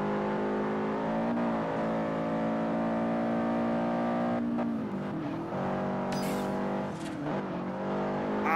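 Lamborghini Diablo racing car engine in Forza Horizon, a sustained high-revving roar with smooth pitch climbs and drops through gear changes, loud and close, with brief tire screech near the end and no talk.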